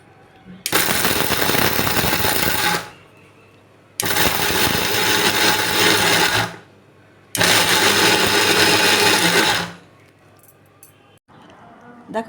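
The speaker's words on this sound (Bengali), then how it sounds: "প্যাকেট থেকে বাদামগুলো আমি বের করে মিক্সির জারের মধ্যে দিয়ে দিলাম এবার এগুলোকে আমি পাউডার বানিয়ে নেব" Mixer grinder pulverizing cashew nuts into powder in three loud bursts of roughly two to three seconds each, separated by short quiet pauses.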